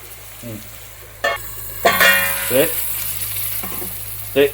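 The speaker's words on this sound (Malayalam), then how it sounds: "ഒന്നും കൂടെ ഒന്ന് ഇളക്കി കൊടുക്കുക അടി പിടിക്കാതിരിക്കാൻ പ്രത്യേകം നോക്കണം" Masala for a chicken dish stirred in a frying pan, a quiet sizzle broken by several sharp scraping and clattering strokes of a spoon against the pan, close by, with no speech.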